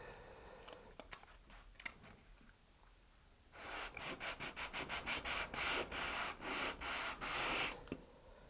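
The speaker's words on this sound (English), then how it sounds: "you got to hold with pressure on this and then kind of pushing forward just a little bit into the sanding block" A sanding block rubs along a rocket glider's wing edge, giving a close run of rhythmic rasping strokes, about a dozen back-and-forth passes in quick succession after a few seconds of faint handling noises.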